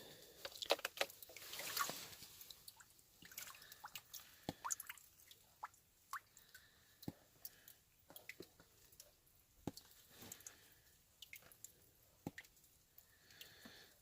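Water drips and splashes in quick irregular taps as gold-bearing gossan rock samples are rinsed off, soft and close with scattered wet clicks and no talk.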